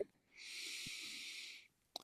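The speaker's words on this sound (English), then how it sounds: "I'm going to invite you to just take a deep breath in." A person drawing in a slow, deep breath during a guided prayer, a soft airy inhale lasting over a second, close and quiet, followed by a short exhale.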